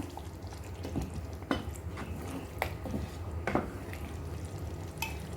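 Paneer is stirred in a pan for paneer masala, with a spoon repeatedly scraping and clinking against the pan over a soft, low sizzle at a moderate, steady pace.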